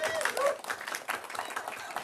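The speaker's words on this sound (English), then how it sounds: "So I want to give a round of applause for Rick's amazing planning." Audience at a Sunday church celebration applauding, a brief burst of dense clapping from a crowd that dies down over about two seconds, with voices mixed in.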